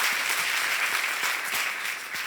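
Church congregation applauding together, a steady dense wash of clapping that fills the whole moment without pause, with no voices rising above it.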